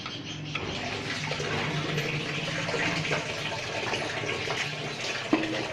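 Heated water is poured out and changed during home preparation of fennel (saunf) distillate, a steady, close, continuous gushing pour lasting throughout with no speech.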